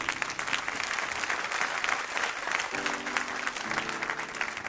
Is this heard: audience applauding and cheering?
yes